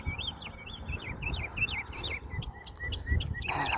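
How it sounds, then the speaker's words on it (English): Chirpy bird calls from a video game, a rapid series of short rising-and-falling tweets repeating across the scene over a low ambient background, fairly close and clear. "I love the bird sounds."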